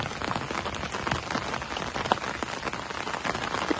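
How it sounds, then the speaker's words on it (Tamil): Rain patters steadily on a surface outside a home, a dense, even hiss of drops with scattered louder splashes and no voices. "ஆனால் நம்ம நேரத்துக்கு இப்போ தான் மழை பெய்யுது."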